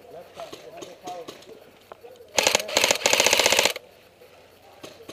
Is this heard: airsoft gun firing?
yes